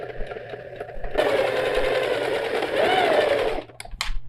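A sewing machine topstitches backpack fabric in a fast, close, even whirring run of stitches lasting about two and a half seconds, then stops, followed by a few light clicks.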